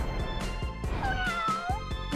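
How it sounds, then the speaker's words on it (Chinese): A toy kitten meowing, a few short high mewing cries over a rhythmic background thump, close and clear. "灰姑娘在和小猫玩"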